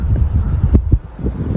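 Wind gusts batter the microphone during heavy snowfall, giving a rough, low rumble with uneven buffeting surges and no voices.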